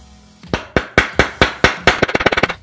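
A mallet strikes a bicycle star nut down into a trimmed steerer tube: about six evenly spaced, sharp, loud metallic taps, then a faster burst of lighter blows, close and alone with no talking.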